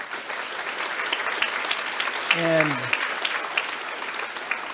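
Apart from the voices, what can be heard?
audience applause at conference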